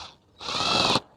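A drill screwdriver drives a screw into a wall plug in one short, high-pitched whir lasting about half a second, close by and alone.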